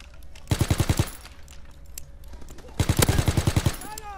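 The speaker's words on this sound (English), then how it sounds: "That was actually a really good gunfight." Two rapid automatic bursts ring out in a video game gunfight, each a quick string of sharp, loud shots close by, separated by a brief gap with faint scattered sounds between them.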